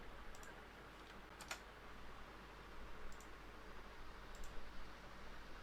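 Computer keyboard typing during a terminal session, with a few soft key clicks and a firmer Enter press standing out over a steady background hiss.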